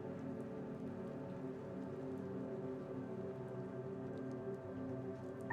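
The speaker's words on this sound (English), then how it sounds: "This fucking rain is flooding our neighborhood." Heavy rain floods a neighborhood in the video game Dispatch as a steady, dense downpour hisses evenly throughout, with no voices.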